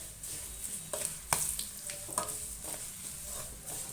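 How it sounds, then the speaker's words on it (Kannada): Whole, uncrushed garlic cloves with their skins on fry in hot oil, giving a steady close sizzle broken by sharp spluttering pops and bursts. "ಫುಲ್ಲು ಜಜ್ಜಲಿಲ್ಲ ಬೆಳ್ಳುಳ್ಳಿ ಈ ಥರ ಸಿಡಿಯುತ್ತೆ"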